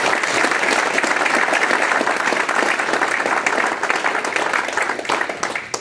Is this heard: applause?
yes